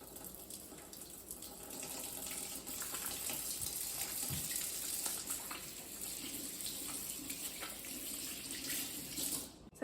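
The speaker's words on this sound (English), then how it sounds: "First things first is to always wash your hands." Tap water runs steadily into a kitchen sink for hands being washed, a soft continuous rush at low level with faint splashes, no talking.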